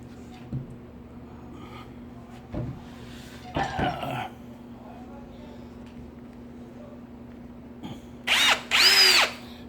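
A cordless power drill whirs in a few short bursts, with two brief spins early on and a louder, longer run near the end, close up in a quiet room with a constant low hum.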